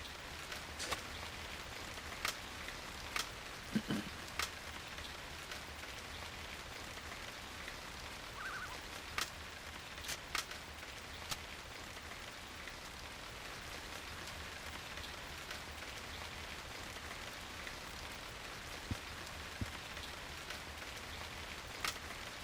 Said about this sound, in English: I do like the rain sound effects, I will admit. They are pleasant to listen to.